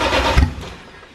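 A BMW S54 engine swapped into a car fires up for the first time: a brief cranking catch and low rumbling burst that settles into a fading, softer running tone, close and alone.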